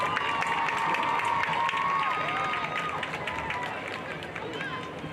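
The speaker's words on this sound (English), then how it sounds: "give her a warm welcome with a round of applause" Crowd applause and cheering from stadium stands at a high school homecoming football game, Sterlington vs. Richwood, greeting a homecoming court honoree; steady, loud and distant, mixed with crowd noise and a voice over the PA.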